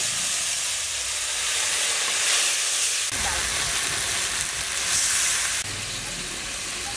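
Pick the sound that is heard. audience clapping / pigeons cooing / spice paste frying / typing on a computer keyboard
spice paste frying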